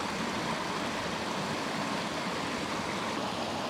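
A stream flows outdoors, a dense, steady rush and babble of water that stays close and fairly loud throughout, with no voices.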